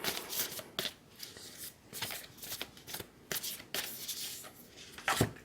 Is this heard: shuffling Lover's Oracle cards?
yes